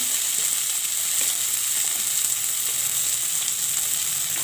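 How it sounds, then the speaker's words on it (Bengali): Spring onion leaves and garlic sizzle loudly in hot oil, a dense, even hiss that stays strong and close from start to finish, with no speech over it. "এই তেলের মধ্যেই আমি একে সব দিয়ে দেব। আগে দিয়ে দেব পেঁয়াজ পাতাটা, তারপর রসুনটা"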